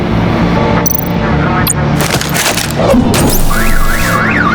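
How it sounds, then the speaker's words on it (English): In the Batman: The Enemy Within game, a bat stunner sets off a car alarm. Crashes and thuds come first, then a loud wailing alarm rises and falls in repeating sweeps, with voices mixed in. "My bat stunner would set off the car alarm."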